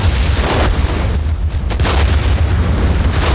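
Artillery shells explode in the war video game Warfare Legacy Collection, a loud continuous rumbling boom with heavy low thunder and a few sharper bursts inside it, close and overwhelming.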